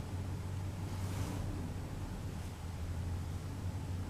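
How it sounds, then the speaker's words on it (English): Strong wind blows outdoors on a freezing cold walk, buffeting the microphone in a steady low roar with brief gusts, loud and unbroken, no talk. "it is so windy out"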